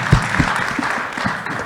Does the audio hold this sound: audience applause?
yes